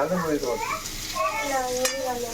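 Spicy fish curry is sizzling and being stirred in a pan. The soft frying hiss runs throughout, with voices and faint chatter over it.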